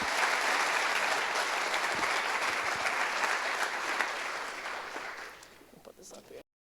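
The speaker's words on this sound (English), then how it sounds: "Give a big warm round of applause for my girl, Maddie BURKE." A live audience applauds warmly for a speaker being introduced at an event, dense steady clapping that fills the room before thinning and tapering off near the end.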